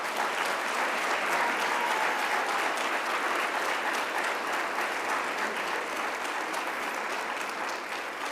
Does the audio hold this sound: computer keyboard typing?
no